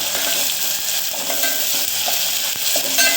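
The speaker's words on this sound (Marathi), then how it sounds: "मीठ घालून थोडंसं हलवून घ्यायचं." Onion and tomato sizzle and fry in a pan as salt is stirred through them, with a steady close-up crackle and scraping stir strokes running continuously.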